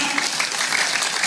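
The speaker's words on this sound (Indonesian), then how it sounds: "Tepuk tangan." A crowd at an outdoor Islamic religious lecture claps in a dense, continuous burst of applause, fairly close and even throughout.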